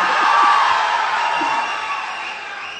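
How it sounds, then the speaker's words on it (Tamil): A live audience cheers and claps loudly in a hall, a dense roar of clapping and whoops that peaks early and slowly fades. "நீங்க கேள்விக்கே கிளாப் பண்றீங்கிறது நான் பாக்குறேன்"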